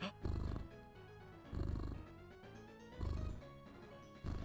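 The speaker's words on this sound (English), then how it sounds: "You just can't hear me anymore and you just hear purring." A cat purrs very close up in a low, rumbling, rhythmic cycle, swelling roughly every second or so, with no voices over it.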